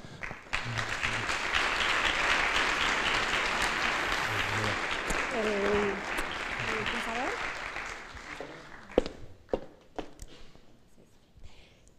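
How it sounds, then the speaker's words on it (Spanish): A crowd at a technology entrepreneurship workshop claps warmly for several seconds, with a few voices murmuring underneath, then the applause fades into scattered claps and footsteps. "Os pido por favor que le deis un fuerte aplauso."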